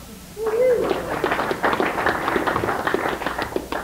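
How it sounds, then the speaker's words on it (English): An audience claps through a round of applause at a Lions community event, dense and scattered strikes rising quickly after a brief spoken voice, then sustaining steadily. "Give yourselves a round of applause."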